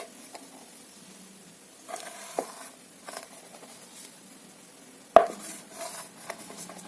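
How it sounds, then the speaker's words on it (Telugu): A knife cuts rolled wheat-flour chapati dough into thin strips on a board, making soft scattered taps and light scrapes with one sharper knock near the end, faint and close. "ఇలాగా సన్నగా అయితే కట్ చేసేసుకోండి"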